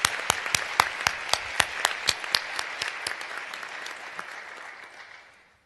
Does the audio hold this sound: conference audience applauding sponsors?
yes